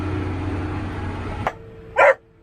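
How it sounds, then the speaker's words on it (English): A dog in a farm vehicle's cab gives a single sharp bark after the engine hum drops away, loud and close, with a faint click just before it. "Sorry about the dog barking"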